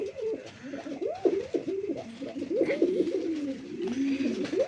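Mashaldom pigeons coo close by in repeated rolling, throaty calls that follow one another with little pause, over a low background murmur.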